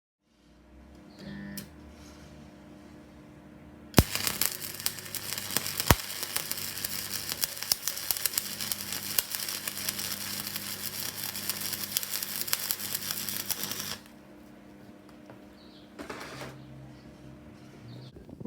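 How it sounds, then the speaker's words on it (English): Steady crackling and hissing of welding as a radiator mount bracket is fabricated for a supercharged Nitros postie motorbike, a continuous buzzing burst lasting about ten seconds with softer workshop noise before and after. "weld a piece on so I can position that lower"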